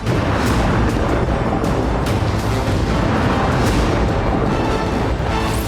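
Smoke bombs fired on Hamas positions in Gaza during Israeli military operations: a loud, continuous rumbling roar with repeated sharp booming bursts throughout, no voices.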